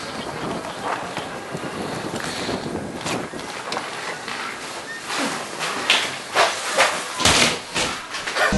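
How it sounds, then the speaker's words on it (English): Wind blowing outdoors in Kiruna, a loud rushing roar buffeting the microphone in irregular gusts that swell and surge toward the end, close and harsh with no other sounds clearly standing out. "Feel it with that wind."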